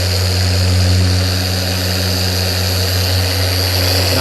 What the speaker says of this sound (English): I'm going to have to use my 3-inch polisher up against the edge.